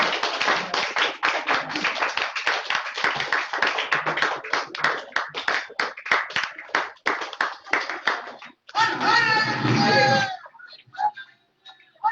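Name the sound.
audience clapping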